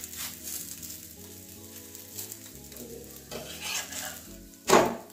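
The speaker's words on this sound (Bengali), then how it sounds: "ওইদিকেও এরকম লাল লাল করে ভেজে নেব" A cabbage paratha fries in oil in a pan, giving a continuous close sizzle with light scraping and a brief louder clatter near the end.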